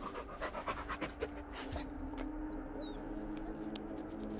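A dog in the Blair Witch video game pants rapidly and rhythmically for about two seconds, close and clear, then quiets under a steady ambient hum with a few faint chirps.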